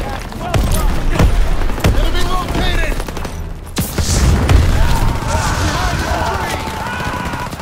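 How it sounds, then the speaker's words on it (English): Intense wartime combat in Call of Duty WW2, with a grenade going off amid dense gunfire bursts and booming impacts, loud and chaotic, with shouted voices mixed in. "Grenade out! Grenade! Throw the grenade!"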